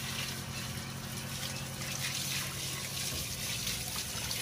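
Water running steadily from a tap or hose while a female puppy is bathed, a continuous close splashing flow with no voices.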